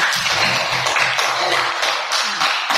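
Classmates applaud a student in a classroom, steady loud clapping from many hands nearby, continuous and dense throughout with no voices standing out.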